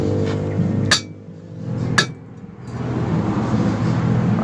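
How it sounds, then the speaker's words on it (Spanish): Two sharp metallic taps from a hammer striking tools to free the valve keepers on a Honda Rebel CMX 250 engine head, spaced about a second apart over steady background hum. "Vamos a dar otro golpecito más fuerte para sacar este cuñero"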